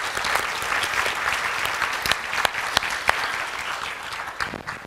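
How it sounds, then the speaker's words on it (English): An audience claps steadily for several seconds, a dense wash of many hands with a few sharper individual claps standing out. "Let's give them a big round of applause."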